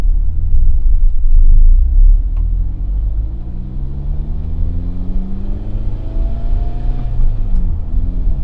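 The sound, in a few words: car with turbo and XTD clutch driving up the road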